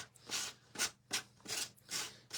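A colored craft piece is sanded by hand with rhythmic back-and-forth strokes, about six soft rasping passes, close and fairly quiet with no talk.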